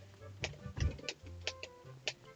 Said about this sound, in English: They're giant birds.